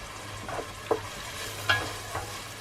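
A chopped onion fries in a pot as the start of a potato and cabbage soup, with a soft sizzle and a few distinct clunks of stirring.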